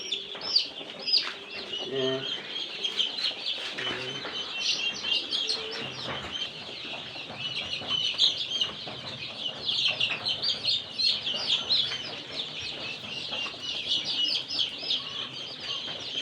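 A batch of forty young local chicken chicks in a brooding box peep and chirp constantly, loud and near, with high overlapping calls and occasional soft clucks beneath brief talk.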